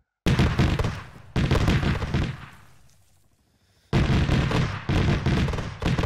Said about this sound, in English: Yeah, shooting with the Tigris.